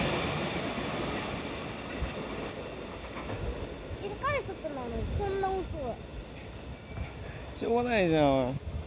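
A JR 313 series train creeps very slowly through Aimi station, low rumble and rail noise with squealing wheels rising near the end, while bystanders talk nearby.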